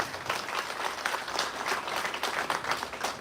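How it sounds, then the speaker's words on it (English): Applause from the audience at an academic geography congress at a university, a fairly soft, even patter of many hands that holds through the whole stretch with no voices over it. "Audience, please give a round of applause."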